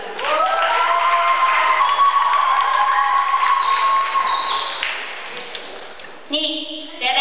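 A live audience at a contest show applauds and cheers, a broad wash of clapping with a sustained tone running over it, while a voice talks in the background.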